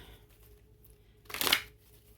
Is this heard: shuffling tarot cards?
yes